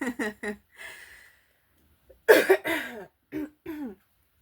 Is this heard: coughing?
yes